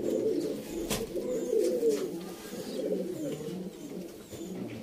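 A Sialkoti pigeon coos nearby in a low, rolling, continuous series of throaty coos, fairly loud and with no talk over it.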